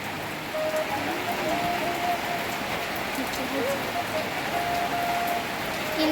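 Steady rain falls outdoors in a continuous close hiss of drops on surfaces, heavy and even throughout, with a faint voice and a few tonal sounds drifting in the background.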